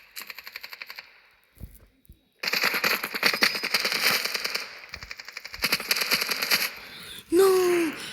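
Gunfire in a video game crackles in rapid automatic bursts, several separate strings of shots with short pauses between them, loud and close, ending with a brief voice-like sound.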